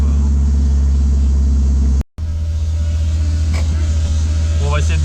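A Renault Clio RS engine drones low and loud from inside the car, cutting out briefly before rumbling on as it accelerates, with faint higher whines over it.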